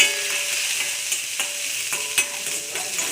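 Mustard seeds, urad dal and chana dal sizzling in hot oil, a close, bright crackling hiss punctuated by regular sharp spattering pops.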